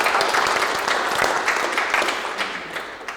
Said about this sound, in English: So a round of applause for our sponsors and our hosts.